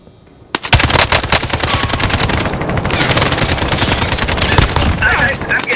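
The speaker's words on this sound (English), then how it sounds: "I'm getting shot at every fucking angle" Sustained automatic gunfire in Call of Duty: Modern Warfare, aimed at the player: after a brief quiet start, rapid loud machine-gun bursts erupt and continue densely, with overlapping shots and impacts from several directions.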